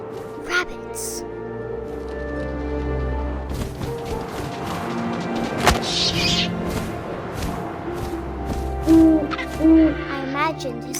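An owl in the narrative video game What Remains of Edith Finch gives several hollow, resonant hoots, clearest near the end, under a narrator's voice and ambient music.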